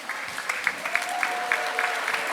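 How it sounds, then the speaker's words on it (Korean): Sustained audience applause at a Sewol ferry ninth-anniversary memorial ceremony in Ulsan, following an a cappella group's performance; dense, even clapping from a crowd filling the whole moment. "여러분 사랑과 희망이 느껴지신다면 다시 한번 큰 박수 주십시오"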